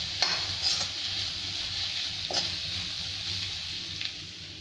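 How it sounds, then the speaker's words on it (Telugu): Egg fried rice being stirred in a pan, with a steady low sizzle and a few scraping stirs of a utensil against the pan, close and moderately loud, no talking. "మళ్ళీ ఒకసారి మొత్తం కలిపేసి"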